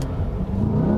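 A 2020 Chevrolet Corvette C8 with passive springs accelerates hard, its engine note a steady, loud, close rising roar from inside the cabin, alone without talk.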